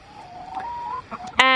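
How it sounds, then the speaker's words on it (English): Rooster clucking and calling up close, a wavering throaty vocalization ending in a sudden loud harsh burst, with no talk. "I'm obsessed with our new rooster"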